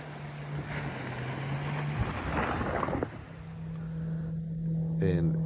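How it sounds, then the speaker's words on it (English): Motorboat ripping up a river, its outboard engine droning loud and steady with wind buffeting the microphone and water rushing past; the engine note drops briefly near the middle, then picks back up. "he's going to beach the boat, not on purpose."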